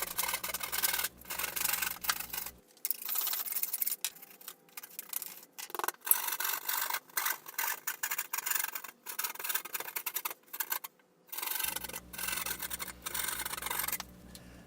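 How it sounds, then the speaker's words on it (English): Drywall for a ceiling is being cut on the edge of a workbench, with rough scraping and rasping strokes repeating close up, steady and continuous. "this piece of drywall was easier to cut with it laying on the edge of the bench"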